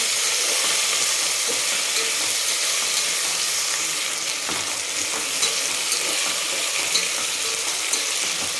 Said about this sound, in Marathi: ते पण आपल्याला या सगळ्या साहित्यासोबत छान परतून घ्यायचं.